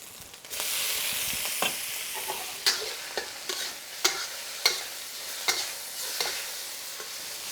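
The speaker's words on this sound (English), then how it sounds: "Let's go ahead and get these tomatoes in." Tomatoes dropped into hot oil with egg for a classic Chinese egg and tomato stir-fry: a bright, continuous sizzle with repeated sharp scraping taps of a spatula stirring the pan, no talking.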